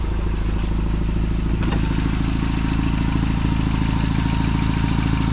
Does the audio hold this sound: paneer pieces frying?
no